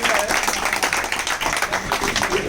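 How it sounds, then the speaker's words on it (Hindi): Loud applause at a TPL Season 3 cricket auction event as the trophy is placed on stage, dense clapping from a crowd with a voice speaking over it. "एक बार जोरदार तालियों से"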